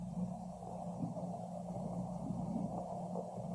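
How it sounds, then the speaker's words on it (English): Radio emissions from charged sulfur particles trapped in Jupiter's magnetosphere, recorded by Voyager, rendered as a steady low warbling drone with a wavering hum and faint undulating tones, continuous and alone without speech. "What you are hearing is the sound of radio waves generated by the charged sulfur particles trapped in the magnetosphere"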